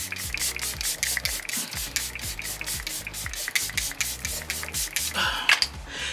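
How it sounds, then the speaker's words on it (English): Glass setting spray is pumped onto a face in a quick, steady series of short, close, hissing spritzes, about a dozen bursts in a regular rhythm with no talking. "Glass setting spray."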